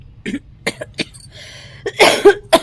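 Several sharp coughs close by, separated by short pauses, ending in a louder, rougher cluster of coughing.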